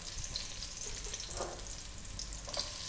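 Garlic sautéing in oil in a pan for a Filipino crab dish with squash, giving a steady close sizzle and crackle throughout, with faint stirring and no voices.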